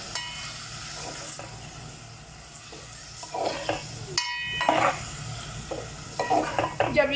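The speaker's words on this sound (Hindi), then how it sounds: "और अब इसमें हम चिकन डाल देंगे और इसको हम पकने देंगे लो फ्लेम पर।" Chicken pieces for restaurant-style chicken shashlik sizzle in a pan over a low flame, with a steady close frying hiss and intermittent scraping and stirring clatters.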